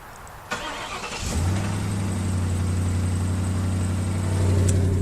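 A 2011 Ford Crown Victoria P7A engine cranks briefly, catches, and settles into a loud, steady idle with a low rumbling drone.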